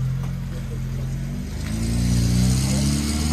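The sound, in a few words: Lada car engine revving, shifting into reverse and forward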